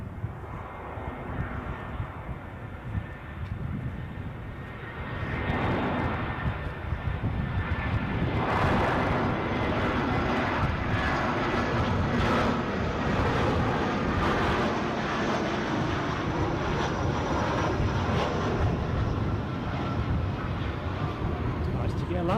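A plane lands at a gusty Edinburgh airport, its engine roar steady and heavy under constant wind rumble on the microphone, swelling louder after the first few seconds and holding close and sustained; a voice talks faintly at times.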